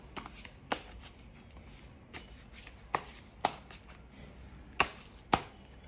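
Tarot cards are shuffled by hand in sharp, irregular bursts of riffling and snapping, about eight distinct crisp hits spread over a quiet background with no speech.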